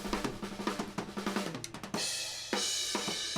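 An unprocessed drum mix plays close and loud, a fast run of kick and tom hits followed by crashing cymbals that ring out between sparse later hits.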